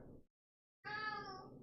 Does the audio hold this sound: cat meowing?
yes